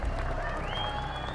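Crowd applause in the Hitman 2 video game, a dense steady wash of clapping from a gathered audience that fills the short moment, with a rising synthetic tone sweeping up beneath it.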